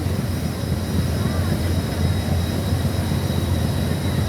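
A passenger launch's engine drones steadily while the boat runs on a river, a constant low rumble with a thin high whine riding on top, no distinct speech over it.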